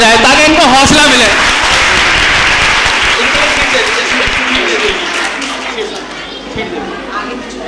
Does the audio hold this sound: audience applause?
yes